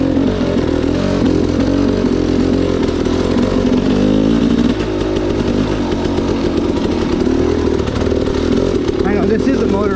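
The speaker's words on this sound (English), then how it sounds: "We're just lugging her up in first gear so far." A dirt bike engine lugs uphill in first gear on a motorized-use trail on Green Mountain, a loud, close, steady buzzing drone with a brief dip midway, while a rider talks over it.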